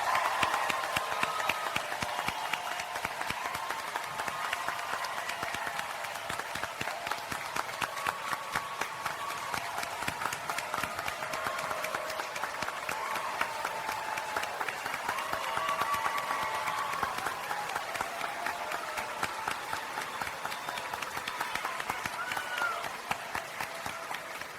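Warm audience applause at a Millersville University graduate commencement ceremony, a large crowd clapping steadily and densely for a long stretch, with a faint murmur of voices underneath.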